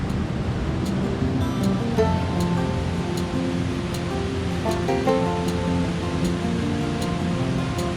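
A mountain stream in an Italian Alpine valley rushes continuously in a broad steady roar, with faint higher tones and clicks scattered over it.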